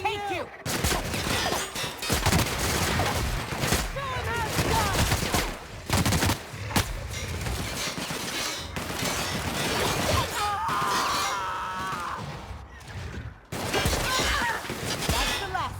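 Bursts of rapid gunfire and heavy shots in the video game The Outer Worlds crackle and clatter almost continuously, loud and chaotic, with brief shouted voices mixed in.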